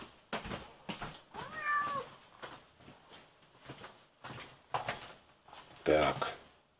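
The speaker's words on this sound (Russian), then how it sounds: "а то сейчас кот Митя придет" A house cat meows several times at close range, short plaintive calls between quiet rustling and someone speaking.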